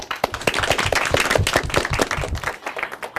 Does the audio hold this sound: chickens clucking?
no